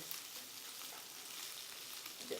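Noodles, carrot and sweet corn frying in a pan, giving a faint, steady sizzling hiss throughout with no voices.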